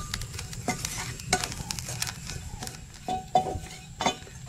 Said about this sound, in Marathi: खोबरं मस्त खरपूस भाजायचं.